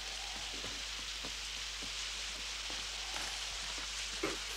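Steady rain pours in a cartoon scene, a soft, even hiss of falling drops with scattered faint pattering, continuous and moderately quiet throughout with no voices.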